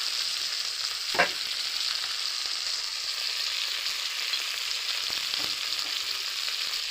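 Chopped tomatoes with salt fry steadily in a pan, a constant close hiss with a brief stirring clatter near the start and another fainter one later.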